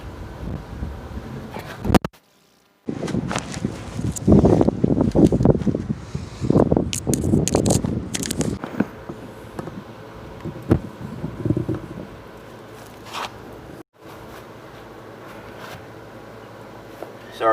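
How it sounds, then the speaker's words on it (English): Gusty outdoor wind buffets a microphone and tripod, producing loud rumbling bursts and rustling, with brief dropouts near the start and later as the rig is knocked about. "The wind got a hold of the tripod."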